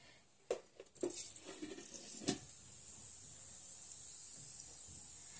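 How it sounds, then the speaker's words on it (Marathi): Cumin and mustard seeds crackle and pop in hot oil for a buttermilk kadhi tempering, a few sharp snaps early on, then settling into a soft steady hiss. "आता जिरे मोहरी आपली तडतडू लागली आहे"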